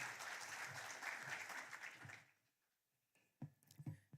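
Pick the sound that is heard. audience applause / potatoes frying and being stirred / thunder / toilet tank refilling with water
audience applause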